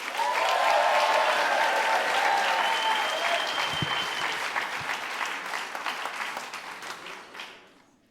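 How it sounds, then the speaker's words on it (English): Loud, sustained applause with cheers and whistles from a large audience at a Moth storytelling event in Los Angeles, filling the room for several seconds before fading out at the end. "Can we please make so much noise for your next storyteller, Karen Armbrust?"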